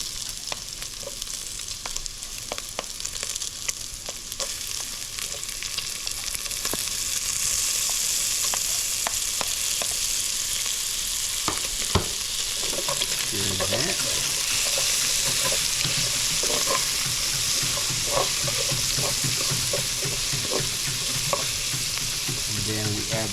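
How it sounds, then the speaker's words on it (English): Pork browning in a pan, with garlic and onions then added, makes a steady close sizzle and fry that goes on throughout, with utensil stirring and scraping clatter over it in the second half. No one speaks. "we're gonna brown the pork"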